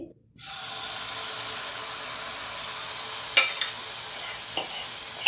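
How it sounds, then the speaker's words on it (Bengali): Banana malpua fry in hot oil with a close, continuous hiss and crackle that starts after a short silence, with a couple of faint clicks along the way. "আমার সব মালপোয়া ভাজা হয়ে গেছে।"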